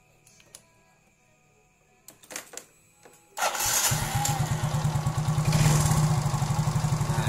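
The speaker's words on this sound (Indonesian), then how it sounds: "Seperti itu cara setel atau mengatur di bagian langsam di tipe motor Yamaha Mio J X-Trade Mio M3 dan lainnya." A Yamaha Mio scooter engine starts and settles into a steady, close idle after its idle-speed adjustment, a loud even putter running continuously with faint clicks beforehand.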